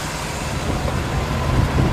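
A 1957 Chevrolet Handyman wagon with a small block V8 and glass pack mufflers idles steadily, a low, smooth, fairly quiet rumble that holds even throughout with no talk.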